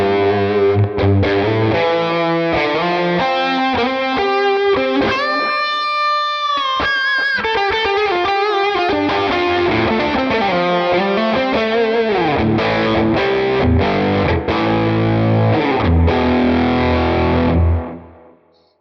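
Distorted electric guitar through a Quad Cortex amp plugin with the gain turned up, loud crunchy chords and riffs played continuously, alone, ending with a decaying ring.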